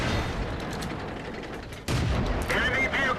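Tank cannon fire in the World of Tanks video game, a sudden loud blast breaking through continuous engine and battle rumble, followed by ringing metallic whine.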